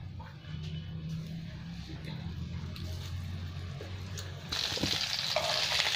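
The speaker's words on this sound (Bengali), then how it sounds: "তেলটা গরম হয়ে গেছে, এবার আমি ভেজে নেবো একটু একটু দিয়ে" Marinated paneer pieces frying in hot oil make a steady bubbling sizzle throughout, growing brighter and louder toward the end as more pieces go in, close to the pan with no talk.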